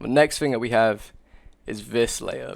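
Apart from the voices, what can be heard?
None of the usual background noises is heard.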